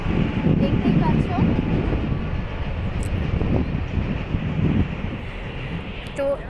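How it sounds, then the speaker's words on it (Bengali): A freight train crosses a large bridge, producing a continuous heavy rumble with a broad wind-like wash, loud and sustained throughout the passage. "এটা ছিল ট্রেন নয়, এটা ছিল মালগাড়ি"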